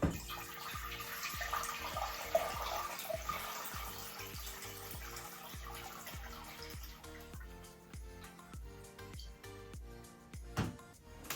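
Hot water poured from a kettle into a pot for cooking pasta, a steady close splashing stream that runs through the clip beneath rhythmic background music.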